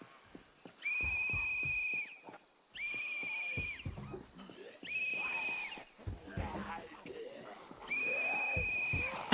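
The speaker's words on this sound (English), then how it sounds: "I feel like the whistle noise is a little quieter." Repeated whistle tones in the zombie survival game Project Zomboid, several sustained shrill blasts of about a second each separated by short gaps, with rustling game noises and thuds in between.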